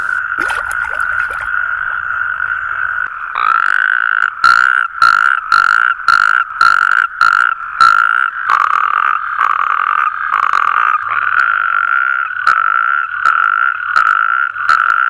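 A dense chorus of natterjack toads trilling steadily and loudly, many voices overlapping in a continuous rattling drone with rhythmic pulses.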